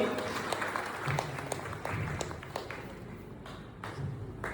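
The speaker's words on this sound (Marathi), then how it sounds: "जोरदार टाळ्या वाजवायच्या सर्वांनी." An audience claps steadily in a dense mass at a felicitation ceremony in Satara, with scattered sharper claps and a murmur of crowd noise underneath.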